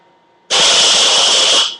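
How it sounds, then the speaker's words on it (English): A blender or food processor bursts into a loud, high whirring pulse that holds for just over a second and then cuts off, chopping vegan Caesar dressing ingredients. "And just blend it. Just give it a couple of pulses."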